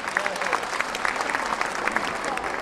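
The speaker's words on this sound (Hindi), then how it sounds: "मैं चाहूँगा आप ताली बजा के उनका सम्मान करें।" An audience at a Maharaja Agrasen Jayanti event claps steadily in dense, continuous applause, a crowd's hands filling the space evenly for a few seconds.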